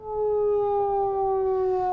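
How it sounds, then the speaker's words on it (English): A steady, loud sine wave tone from a speaker driving a flame tube holds one pitch that drifts slightly lower, with faint overtones above it and a low background rumble underneath. "a simple sine wave"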